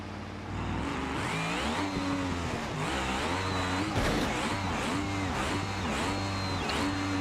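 A car in the BeamNG driving game accelerates hard in third gear toward about 230, its engine note rising and dipping in a loud, continuous synthetic roar with repeated revving sweeps and no talk.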